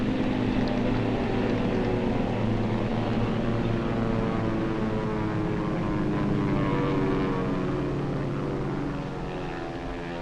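Propeller-driven aircraft drone steadily overhead during a wartime air raid, a loud continuous engine hum with beating tones, sustained throughout and easing slightly at the end.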